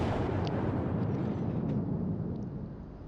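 Heavy shellfire bursting around the cruiser Cleveland in World of Warships, a deep rumbling explosion that swells and then slowly fades, with faint clinks above the roar.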